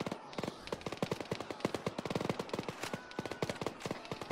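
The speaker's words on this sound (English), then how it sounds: "It sounds like a minigun." Minigun fire in ARMA 3: rapid, continuous bursts of gunfire crackling at a distance, dense rattling volleys that keep overlapping for the whole stretch.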